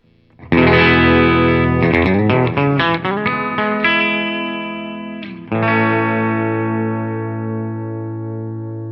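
Distorted electric guitar through an amp, a few strummed and picked chords ringing out with effects and sustain, loud and close, no voices.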